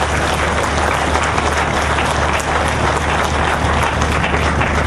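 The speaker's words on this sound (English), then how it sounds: "Let's give her a round of applause." A crowd at a grand opening ceremony for an automotive lighting plant in Batu Kawan, Penang, claps steadily in a dense, loud round of applause that holds evenly for the whole stretch.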